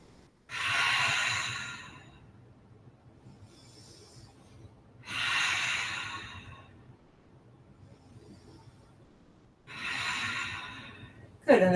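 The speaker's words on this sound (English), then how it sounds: "Breathing." Slow, deep breaths during a seated yoga spinal twist, three long airy exhales spaced about four seconds apart, close and soft over a quiet room hum, with no talking.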